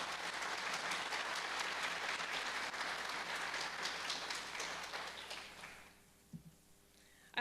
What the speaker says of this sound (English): I'd like a round of applause for all of our supporters